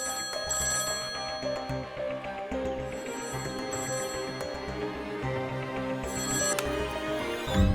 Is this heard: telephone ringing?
yes